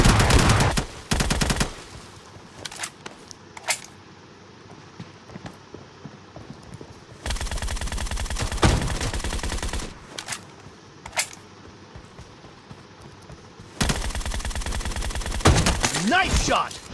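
Automatic rifle fire in a PUBG Mobile match, arriving as several separate loud bursts of rapid shots with quieter gaps and a few isolated single cracks between them.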